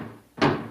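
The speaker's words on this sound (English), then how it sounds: "I can hear them pounding on the door." A single heavy thud on a garage door, loud and close, with a short dull body and a brief muffled tail.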